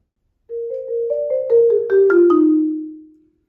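A junior high percussion audition passage in a pitched key sounds as a short string of resonant tuned notes, struck alone and close, building gradually from soft to loud before fading out.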